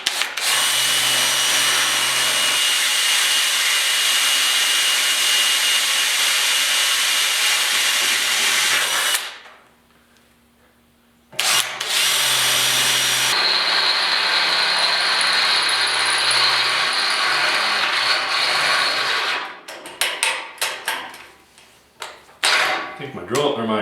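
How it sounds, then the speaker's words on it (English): Loud, continuous power drill whirring through the metal frame of a 1968 Chevy truck, broken by a brief pause, then drilling again before tapering off into scattered clicks. "I always drill a small hole first"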